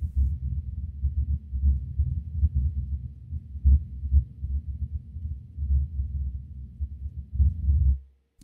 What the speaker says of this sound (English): increase the level of the subwoofer and hear that